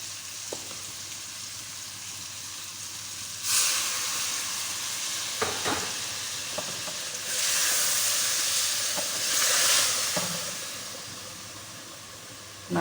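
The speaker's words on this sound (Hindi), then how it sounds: "अदरक लहसुन डालेंगे।" Ginger garlic paste sizzles in hot oil in a home kitchen while cooking arvi gosht, a steady soft frying hiss that swells in louder bursts as it is stirred, with no talking.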